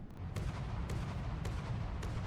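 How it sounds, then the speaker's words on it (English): Ship cannons fire in the video game From the Depths, giving four evenly spaced, sharp booms about half a second apart over a constant low rumble. "Yeah, I'm shooting my own ship."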